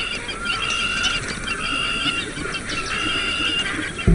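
A flock of birds gathers at shrinking pools on the Kalahari floodplain, honking and calling loudly and continuously, layered goose-like cries filling the scene without speech.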